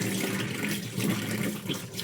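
Steady running tap water splashing over dishes as they are rinsed in a sink, a continuous close rush with small shifts in the flow and no talking.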